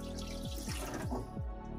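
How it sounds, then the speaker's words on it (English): Water trickles and gurgles in a slow-draining sink's pipe as a nut is loosened, with a few low glugging drops as it drains away. "some water is going to be trickling down."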